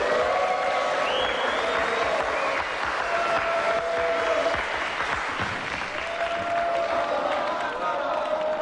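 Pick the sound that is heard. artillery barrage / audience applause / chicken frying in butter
audience applause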